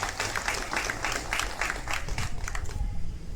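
Audience applause at a Ranchi gathering marking the 151st birth anniversary of Bhagwan Birsa Munda: steady, dense clapping from a crowd that carries on for a few seconds without a break and tails off near the end.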